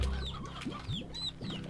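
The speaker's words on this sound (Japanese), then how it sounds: "この、鶏も初めて見るね" Chickens clucking in the jungle area of the video game Slime Rancher, a few short repeated clucks over steady game ambience with bird-like calls.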